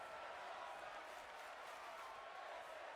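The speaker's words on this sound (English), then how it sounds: "Crowd chanting, this is awesome." A wrestling arena crowd at an indoor event chanting in unison, heard as a dense, steady roar of many voices without distinct beats, moderately distant and even in level.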